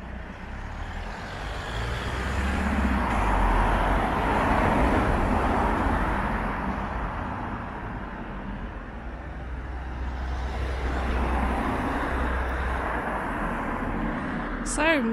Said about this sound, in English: Excuse the noise, busy road.